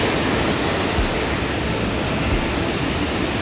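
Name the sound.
waterfall on a hike at Gros Morne, Newfoundland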